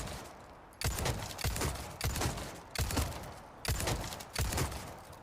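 Red 9 pistol firing in Resident Evil 4 Remake, six sharp, loud gunshots spaced roughly evenly about every 0.7 seconds, each with a short ringing decay, with no voices.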